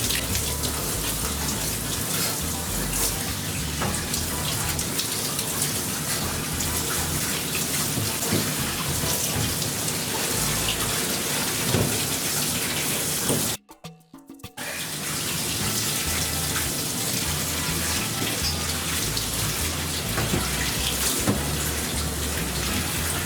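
Running water from a tap pours steadily over a Shih Tzu during her bath, a continuous close splashing hiss broken by one brief pause midway before flowing again.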